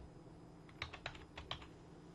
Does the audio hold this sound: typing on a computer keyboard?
yes